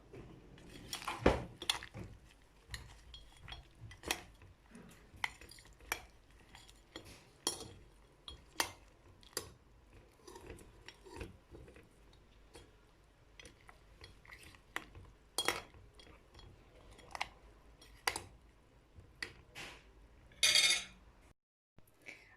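A metal spoon clinks and taps against dishes, scattered sharp chinks over about twenty seconds with a louder scraping flurry near the end, close but quiet, while preparing reyhan sherbet.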